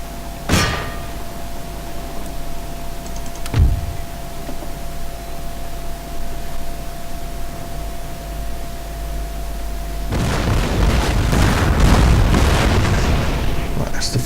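Cannons in a 1704 siege battle game fire on fort walls. Two separate heavy booms land a few seconds apart, followed by a longer, dense rumble of massed firing and impacts.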